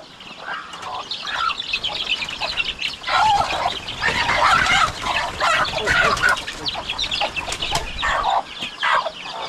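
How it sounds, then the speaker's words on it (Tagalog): On a Philippine farm, hens and a rooster cluck and squawk busily up close. There is dense, overlapping fowl chatter and some wing flapping, with faint voices underneath. "Pakawalan natin yung inahin nila para makasahan naman sa ating tandang dito."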